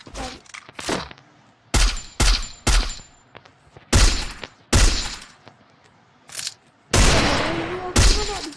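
Gunfire in a shooting video game cracks out in sharp separate shots and short bursts, loud and close, with gaps of quiet between them and a longer sustained burst near the end.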